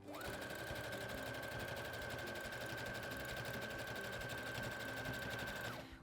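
Sewing machine running a zigzag stitch, a fast, even mechanical rattle and whir held steadily for about six seconds, close and moderately loud with no talking.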